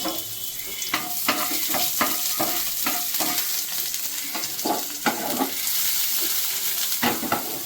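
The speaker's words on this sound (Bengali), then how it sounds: "এবার আমি এখানে দিয়ে দেব একটু রসুন, কুচি কুচি করে কেটে রেখেছি রসুন, এটা দিয়ে দেবো।" Finely chopped garlic fries in fish oil in a pan, a bright continuous sizzle broken by a series of sharp scraping stirs, heard close and with no talking.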